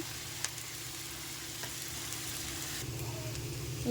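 Onions for a chicken gravy sizzle quietly in a pan, a steady faint hiss with a low hum underneath and a couple of light clicks.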